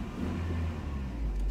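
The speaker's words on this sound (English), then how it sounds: "So we want to hear that motor spur up" A 1992 Toyota Pickup Hilux with a manual transmission hums steadily and then rises slightly in pitch in a brief rev, close and fairly loud.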